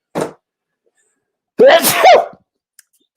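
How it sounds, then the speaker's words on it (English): A single loud, close sneeze bursts out after a brief breathy sound, followed by silence and a faint click. "I'm about to sneeze any second"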